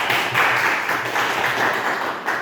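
Applause from a class of students in a teacher-training session, a steady mid-loud patter of clapping lasting the whole stretch with no clear voices over it.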